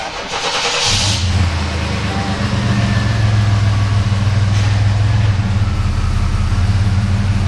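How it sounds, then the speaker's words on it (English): A 1993 GMC Typhoon engine starts, then settles into a steady deep idle and low rumble as the vehicle creeps forward into a trailer, with voices talking over it. "move the vehicle up further in the trailer"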